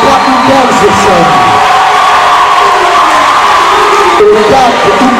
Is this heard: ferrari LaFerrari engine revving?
no